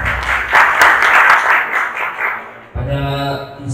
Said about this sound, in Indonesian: Tepuk tangan buat Pak Agung Bonan.